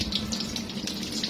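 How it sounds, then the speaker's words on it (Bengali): Dirty eggs rinsed under a running tap: a steady, close splash of flowing water with light rhythmic surges as the eggs are turned under the stream. "ডিমটা নোংরা, ধুতে হবে"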